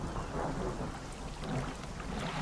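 Rain and rolling thunder in the fishing game Dredge, a steady broadband rumble and hiss holding level throughout with no voices.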